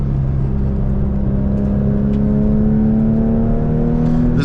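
A Porsche 996 engine pulls at high revs with a steady, rising drone while driving up Angeles Crest Highway, loud and close from inside the car, with no talking.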